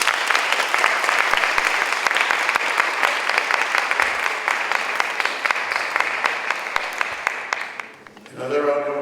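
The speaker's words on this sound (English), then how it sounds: "Another round of applause, please, for Yashika" Audience applausing after a poetry reading, loud sustained clapping with scattered sharp individual claps, fading out near the end as a voice begins to speak.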